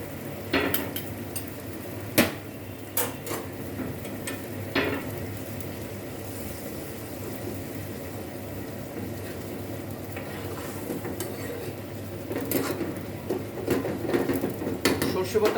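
Fish curry with potato and cauliflower, with mustard paste added, is stirred in a frying pan: a steady sizzle runs beneath occasional metallic scrapes and clanks, and a voice is heard at times.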